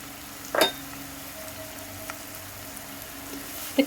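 Chicken liver with chili powder, salt and turmeric frying quietly in a pan as it is stirred gently, a soft low sizzle broken by a few sharp spoon clinks.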